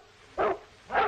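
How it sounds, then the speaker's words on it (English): A dog barks twice in a western film scene, two sharp, fairly close barks spaced about half a second apart over quiet background. "That dog isn't barking for nothing."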